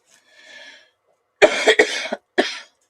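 A person coughs several times close up, a soft throat sound first and then a quick cluster of harsh coughs followed by one more, with no talk over them.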